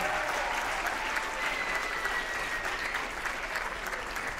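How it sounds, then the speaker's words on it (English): An audience at a writers' festival gives a panel a big round of applause, steady and sustained clapping from a crowd filling the whole moment with no talk over it. "One more time, a big round of applause for our entire panel."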